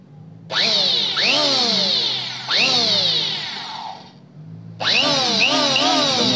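A Redfox Japan electric hand planer runs in loud bursts, each starting with a rising whine of the motor, spinning down between passes and starting up again, close by with no talk.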